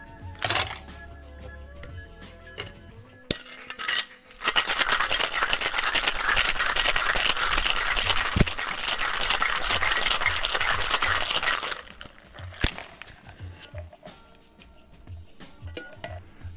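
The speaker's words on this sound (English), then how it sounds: "Add the mint straight into your cocktail shaker, fill it with ice, and then give it a shake for 12 seconds." Cocktail shaker packed with ice and fresh mint, shaken hard for about seven seconds as a dense, continuous rattle of ice against metal, loud and close, with lighter clinks and handling before and after.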